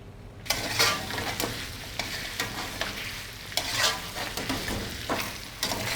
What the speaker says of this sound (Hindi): गलने के बाद हम इसको फ्लेम थोड़ी सी हाई कर लेंगे और 1 मिनट तक भून लेंगे।